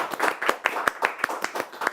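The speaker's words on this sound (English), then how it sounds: "So let's applaud." Clapping in a cricket studio show, a short run of roughly ten evenly spaced, crisp handclaps at a brisk steady rhythm, close and fairly loud.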